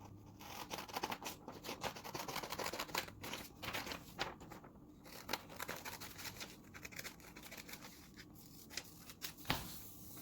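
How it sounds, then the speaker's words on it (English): Scissors cutting out a paper cube template of 2-inch squares, close snipping and rustling paper in an irregular rhythm, quiet and without speech. "So let me cut that out for you."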